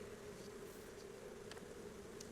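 Honey bees hum steadily around an open deep hive box, a soft continuous buzz with a few individual insects passing closer now and then, with no talking.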